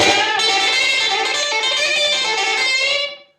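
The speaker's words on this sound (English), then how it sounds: "this is on full volume with the echo pedal. Quite a stinging sound." Electric guitar through a 1974 Fender Silverface Champ amp at full volume with an echo pedal gives a loud, bright, stinging sustained chord with rich overtones and distortion, ringing steadily before cutting off sharply at the end.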